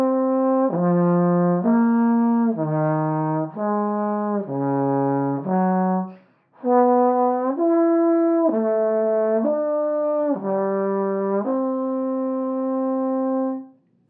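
A trombone plays a slow series of sustained notes starting on concert C and stepping through fourth intervals, each tone held about a second in a steady, clear sequence, with a long final note and no talking.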